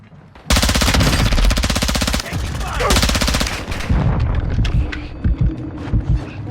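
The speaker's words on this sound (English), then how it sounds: "You are taking effective fire." Loud rapid machine-gun fire in a first-person shooter game rattles in long dense automatic bursts, followed by scattered single shots and a distant crackle of gunfire, with brief speech mixed in.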